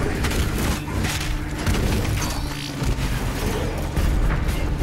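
Gunfire in the shooter Doom Eternal: dense, loud bursts of shots and booming impacts pound continuously over a rumbling battle din.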